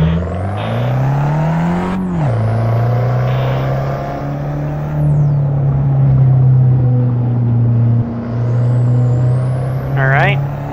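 A Fiat 500 Abarth in the Assetto Corsa racing game launches from a standstill, its engine revving up sharply with a gear change, then holding a steady loud drone with further shifts, and a voice talks over it.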